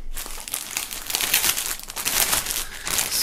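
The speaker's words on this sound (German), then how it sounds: "So, nachdem das Shirt noch in Folie ist, holen wir das mal raus." A shirt is pulled out of its plastic foil packaging, giving loud continuous crinkling and rustling close up with no talking.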